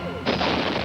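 Star Trek Voyager phaser fire bursts in abruptly after a quieter opening and holds as a bright, sustained blast for the remaining half second.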